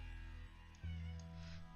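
A house cat lets out a short, faint meow in the background, drawn out over less than two seconds against a low steady hum.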